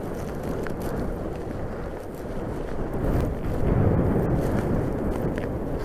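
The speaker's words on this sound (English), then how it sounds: "this is the strongest wind I've dared to fly this so far" Strong wind of about 25 mph on a hillside while a Barrie Lever Starlet radio-controlled glider slope soars, a loud constant rumbling roar of wind against the microphone that swells slightly midway, with no talk.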